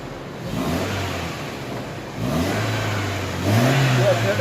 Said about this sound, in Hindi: तो इसको मैं अभी एक्सीलेटर दूँगा